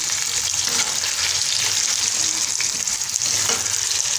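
Half-boiled potatoes coated in yellow food colouring frying for biryani, a loud, dense, unbroken close sizzle with soft crackle and occasional stirring, no talk.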